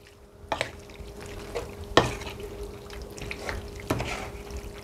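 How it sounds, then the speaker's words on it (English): Pasta being stirred in a pan for a creamy roasted butternut squash and sausage dish, giving a few soft wet scrapes and sloshes spaced about two seconds apart over a low steady background. "then you just want to mix that up"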